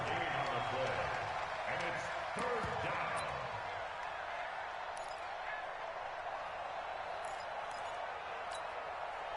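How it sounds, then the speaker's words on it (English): A stadium crowd roars in an American football video game, a broad steady wash of cheering noise under a commentator's voice early on, then continuing alone at an even level. "this crowd urging on their defense. They're up and making noise."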